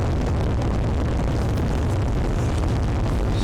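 A rocket engine firing in SimpleRockets 2, a loud steady roaring rush of broadband noise that holds constant throughout.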